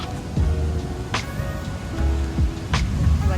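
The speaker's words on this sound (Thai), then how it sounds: "วันนี้ฝนตก" Steady rain hiss with rushing noise, likely surf or passing traffic, rising and falling in swells; no clear talk. Recorded in Nha Trang, Vietnam, on a day of all-day rain by the sea.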